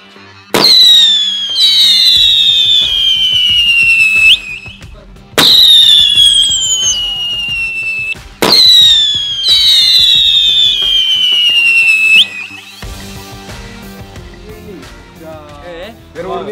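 Diwali fireworks from Sivakasi launch one after another: a sharp burst followed by a long descending screaming whistle, repeated three times close by, then a softer crackling fizz at the end.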